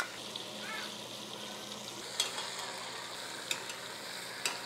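Chicken pieces sear in a hot pan for adobo, a steady soft sizzle and crackle with a few sharp clinks of a utensil against the pan.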